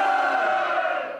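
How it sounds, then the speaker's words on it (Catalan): A concert audience shouts in unison in response to a singer-songwriter at an event in Gavà: a single loud, sustained crowd roar lasting about a second, then fading. "quan el cantautor diu llibertat, el públic embogeix un moment"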